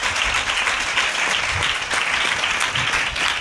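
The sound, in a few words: congregation applauding in church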